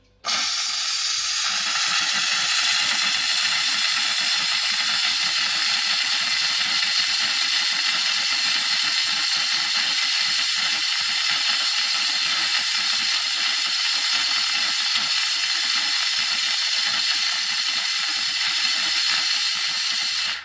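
Loud, continuous hissing and sputtering from a McCulloch MC1385 steam cleaner, with rapid crackling spits of water under a constant rush of steam, with no talking.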